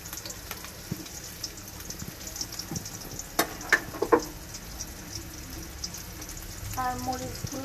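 Chopped onion frying in a little oil for a bitter gourd fry gives a soft, steady sizzle, with scattered clicks and scrapes of stirring in the pan.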